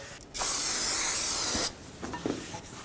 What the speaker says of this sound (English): Use brake parts cleaner on a clean rag, and then take it, flip it over, and install it the right way